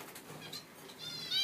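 A parrot flies close by, its wings flapping in a quick soft fluttering that swells and fades, with a faint higher chirpy tone near the end and no talking.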